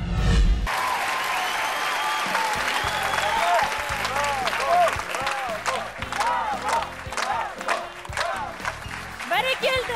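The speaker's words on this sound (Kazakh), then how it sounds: "Бәрекелді, қошаметтеріңіз. Құрмет, қошамет." An audience applauds a folk-pop group at an evening concert honouring a composer, with sustained dense clapping throughout while a host speaks over it.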